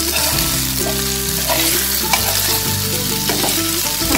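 Vegetables and momos stir-fried together in a pan for tandoori momos, a steady loud sizzle with scraping and tossing from a spatula running throughout, no voices.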